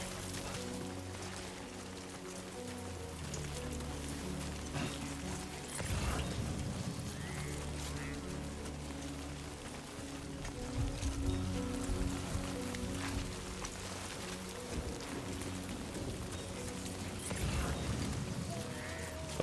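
Steady rain in the video game Death Stranding 2, a dense continuous hiss of falling drops on the ground with a few louder splashes and low rumbles, heard alone with no talking.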